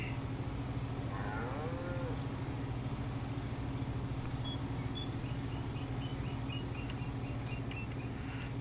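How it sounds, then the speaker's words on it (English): Hungry cows moo on a farm, a few faint, drawn-out calls at a distance over a steady low mechanical hum. "Cows is hungry."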